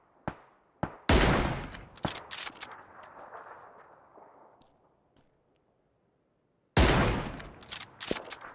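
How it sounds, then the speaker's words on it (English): Gunfire in the battle royale game PUBG: a few sharp single shots, then a loud burst with a long echoing tail that fades to silence, and a second volley of close, rapid shots near the end. "Clearly that guy is shooting"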